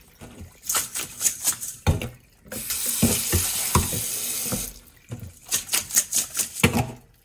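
Clear tap water runs over salted, drained cucumbers in a kitchen sink for a quick rinse, a steady close splash lasting about two seconds between bursts of clattering handling.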